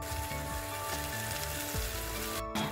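Warm water poured into a pan of frying vegetables and green chillies, ready for paneer, hisses and bubbles as a steady, close sizzle that stays loud and even, with no talking.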